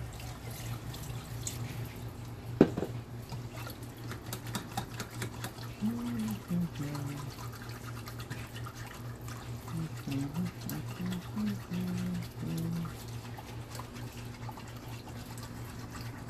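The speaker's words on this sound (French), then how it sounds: "Et on rajoute du bouillon." Broth is poured into a dish for a revisited pâté chinois, a soft, faint trickle and splash of liquid with a few drips and clinks, quiet and intermittent against a low background hum.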